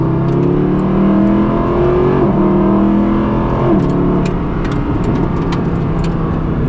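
Mercedes-AMG Black Series engine, loud and close, revving hard with rising harmonic sweeps broken by quick gear changes around two and four seconds, continuous throughout.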